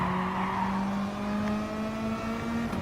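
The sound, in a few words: BMW and Mazda race cars in Gran Turismo Sport video game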